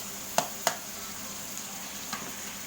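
Tomatoes softening in a hot pan for ginisang munggo, a steady sizzle broken by two sharp clacks of a utensil against the pan, then fainter taps as they are mashed.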